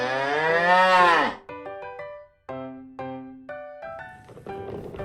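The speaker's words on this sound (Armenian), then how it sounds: "Մեր բոլորի կողմից սիրված կովիկը բուսակեր կենդանի է" A cow gives one long, loud moo up close, then falls silent as a run of bright, plinking musical notes follows.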